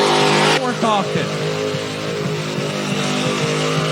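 Frosty ice cream truck doing a burnout, engine screaming loud and sustained at high revs with tire squeal, a continuous roaring blast close by.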